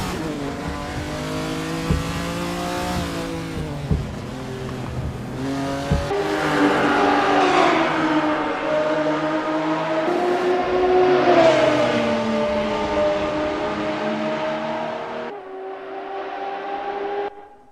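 A Ferrari 250 GTO race car in Assetto Corsa, lapping the Highlands Long circuit in wet weather, roars loud and close, its engine note climbing and dropping through gear changes across a continuous run, with no voices.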